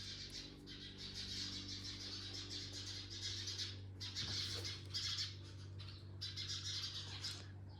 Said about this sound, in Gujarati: ચકલા કેમ બહુ બોલે છે?